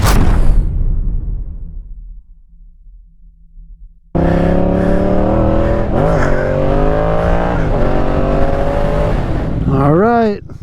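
A 2017 Yamaha FZ-07 motorcycle idles with a loud, close, rumbling tone after a brief fade, then revs in a steady drone that climbs and falls in pitch, ending in a quick rising rev.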